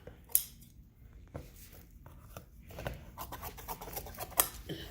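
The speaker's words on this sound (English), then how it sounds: "Here we're going to take our scissors, cut that off." A few crisp snips of scissors cutting through soft car headliner material at a roof rack cutout, with faint handling rustle between cuts; close and quiet.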